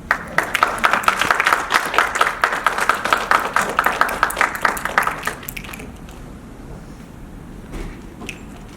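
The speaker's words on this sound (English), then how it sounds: "one more round of applause for Janice, and thank you." Loud audience applause at a speech contest with dense clapping for about five seconds, then quickly fading to a quiet room with faint rustling.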